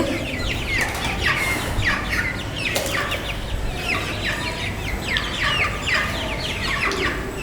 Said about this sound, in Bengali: মুরগিগুলো পানি খাওয়ার জন্য খুবই ব্যাকুল হয়ে আছে